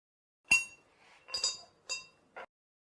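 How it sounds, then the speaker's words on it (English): Screws on an actuator switch cover being worked with a 5 mm Allen wrench, giving four short, separate metallic clinks and taps in a quiet setting, each a brief ringing tick with pauses between. "our switch cover is held by 4 screws. It is opened with a 5 mm Allen wrench."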